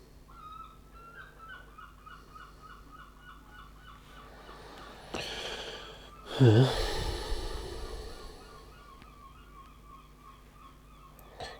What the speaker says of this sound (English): those seagulls are really going for it, aren't they?